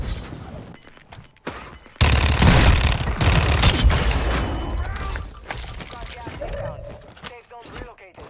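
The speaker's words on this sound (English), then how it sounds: "Bot shooting me in my back." Warzone 2 gameplay carries dense bursts of automatic gunfire that burst in suddenly and keep up for several seconds, loud and close, with a player talking over the shooting.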